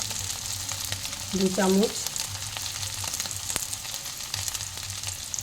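Coriander powder frying in a pan, a steady soft sizzle with a short louder stir or scrape near the start; a voice speaks over it.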